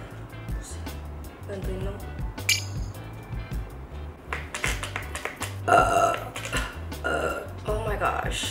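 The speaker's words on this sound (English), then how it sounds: "Oh my gosh, I've been burping all day, guys." Burps after drinking brown sugar boba milk tea during a drinking challenge, several short belches mixed with clicks and handling noises, with a person talking throughout.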